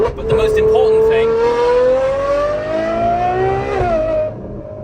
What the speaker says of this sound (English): This unlocks everything that you think about when you think about the sound of a Ferrari.